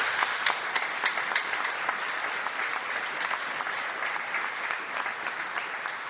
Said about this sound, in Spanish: Demos un aplauso a esas personas.